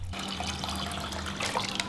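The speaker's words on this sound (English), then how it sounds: "The first step is to put about 2 liters of water into a pot to boil." Water runs from a tap into a pot, filling it with about two liters for boiling; a steady, close splashing rush with a brief dripping change near the end.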